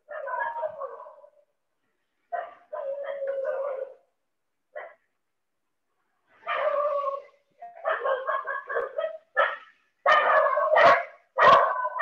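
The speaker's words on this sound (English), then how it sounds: "your background the dogs are shouting" Several dogs bark in repeated bursts in the background of an online children's painting class, with gaps of silence between clusters of barks and a louder, denser run of barking toward the end.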